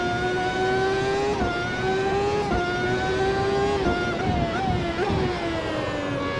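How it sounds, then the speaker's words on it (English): A racing car engine revs hard in a video game, a loud, continuous high-pitched whine that rises steadily and then drops with each gear shift, repeating several times. "It's about the visual equivalent of this car's insane engine when it hits high rev."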